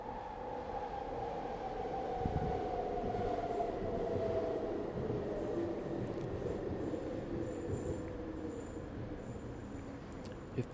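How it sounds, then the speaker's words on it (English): A train rolls past on the tracks, a long steady rumble with wheel squeal, heard from a backyard at moderate distance and fairly faint, with no voices. "I literally cannot hear once that train goes by."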